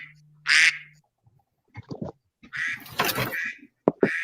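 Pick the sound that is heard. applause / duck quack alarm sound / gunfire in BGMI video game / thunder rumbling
duck quack alarm sound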